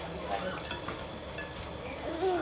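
Rice is poured into a simmering biryani pot, with a steady bubbling sizzle and soft scraping and clinking from a utensil against the pot, faint and close.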